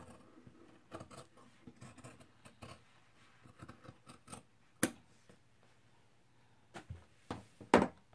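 Scissors cut through dress fabric in a few quiet, scattered snips with long pauses between them, close by in a still room with no talking.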